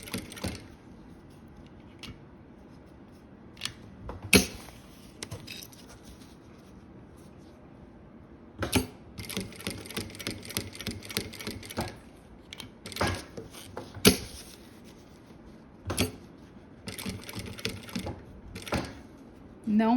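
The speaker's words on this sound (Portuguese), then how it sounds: "Vou costurar, começar pela lateral sem retrocesso." A sewing machine stitching the strap of a fabric cosmetics bag, running in short bursts of fast rattling with pauses and clicks between them, close by, with a little talking in the background.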